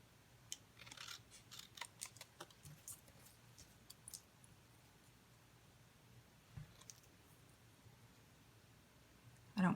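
Scissors snip little strips of paper in faint, quick crisp cuts, scattered irregularly close by with a soft background hum.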